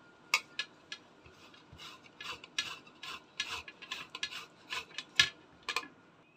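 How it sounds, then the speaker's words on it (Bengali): Potato being grated on a grater for cheese potato bread, a quiet, close series of uneven rasping strokes and scrapes with short pauses between them. "এখন আলুটা গ্রেট করে নেব।"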